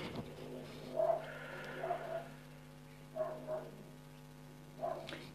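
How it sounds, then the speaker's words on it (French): Dogs bark in a few short bursts somewhere nearby, moderately faint and spaced out, behind a steady low background hum in an indoor setting. "Il y a des chiens à côté, je pense que vous avez entendu."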